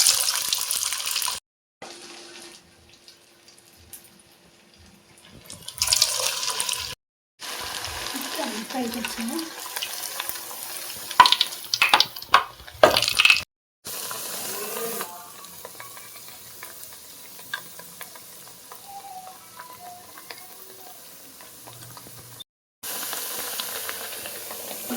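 Corn fritters (makka garelu), Telangana style, frying in hot oil, a bubbling sizzle that comes and goes with cuts, with scraping and splashing bursts in the middle and a softer steady hiss later; a voice talks briefly over it.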